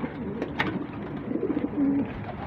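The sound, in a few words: pigeon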